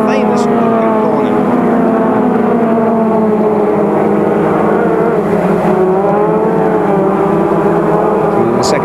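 Rover race cars charge through Luffield at Silverstone in 1991, several engines howling loud and close, their pitches bending and overlapping as the cars open out of the corner.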